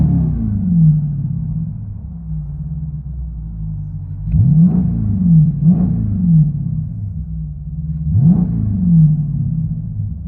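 A Dodge Durango SRT with a 6.4-liter engine, Vibrant resonators, X pipe, rear delete and 5-inch tips, heard from inside the cabin: a deep, steady idle burble broken by three sharp revs.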